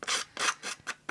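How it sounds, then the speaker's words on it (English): Scissors blades scraped along the edges of handmade card to scuff them, four quick rasping strokes close up, each a bright scratchy burst separated by short pauses. "going to scruff up the edges just for a little bit more interest. So I'm just going to use my scissors."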